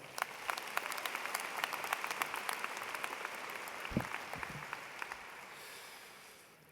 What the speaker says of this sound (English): How about another round of applause for Ms. Haba?